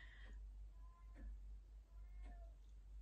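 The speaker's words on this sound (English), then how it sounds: "can you hear that? That's a cat outside." A cat meows outdoors, several separate plaintive, drawn-out calls spaced across a few seconds, heard at a moderate distance over a steady low background hum.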